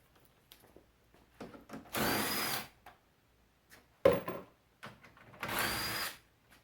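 A cordless electric impact wrench with a 10mm socket zips off bumper cover bolts on a 2015-2020 GM full-size SUV, with two loud multi-second bursts separated by quieter clicks and handling noises nearby.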